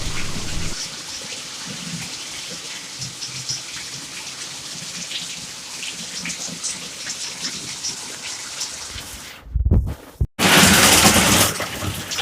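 Heavy rain pours down steadily as a dense close hiss, with a brief louder burst of splashing near the end.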